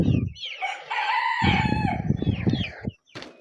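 Chickens and chicks in a coop: a rooster crows loudly and close, with clucking and peeping hens and chicks around it, then a short pause.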